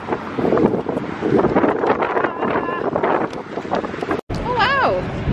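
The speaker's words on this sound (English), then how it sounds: "It's boiling, it's fucking windy." Strong wind buffets the microphone outdoors on a street in London, a loud, rough, continuous rumble with gusts, mixed with people talking.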